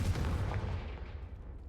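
Confringo blasting spell in Hogwarts Legacy bursting as a single deep, booming explosion that quickly fades into a short rumbling tail.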